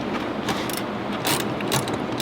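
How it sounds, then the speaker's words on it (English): A ratchet fitted with a 10mm socket loosens the negative battery terminal on a GR Corolla, giving a steady close run of quick clicking pawl ticks with brief louder bursts and no talking. "we're going to disconnect the negative terminal of the battery using a 10mm socket"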